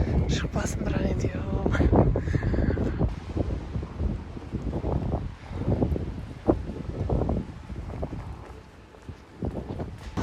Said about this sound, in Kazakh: Негізі желге не против, жел жақсы ғой.